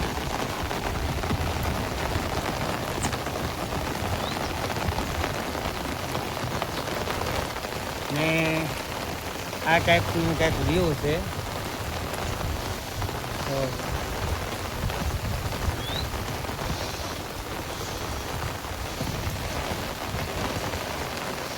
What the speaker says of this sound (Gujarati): અમારા ભાઈ રોણિયા ગામમાં સારામાં સારો અત્યારે વરસાદ છે.